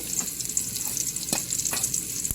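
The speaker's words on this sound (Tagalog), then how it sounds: "Gisa-gisa. Palabasin muna natin yung aroma ng luya para mabango." Ginger sautés in a pan for dinuguan, crackling and sizzling steadily with a few sharp pops and scrapes of stirring over a constant bright hiss.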